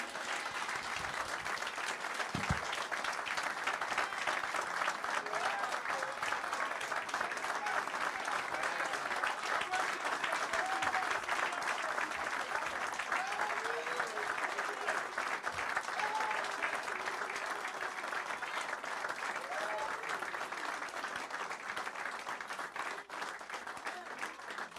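A crowd applauding at a church celebration, dense sustained clapping that fills the room from start to finish with scattered voices mixed in.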